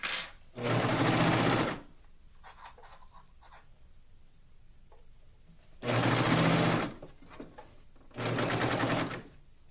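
Sewing machine fitted with a walking foot stitches swimsuit fabric in three loud, close bursts of rapid mechanical whirring, separated by quiet pauses with faint handling noises.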